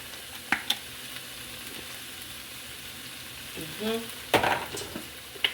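Seafood fries in a pan with a soft, even sizzle, joined by a few sharp clinks and a short burst of louder crackling near the end.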